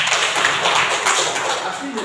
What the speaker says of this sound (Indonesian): Tepuk tangan lagi sama Pak Stefan.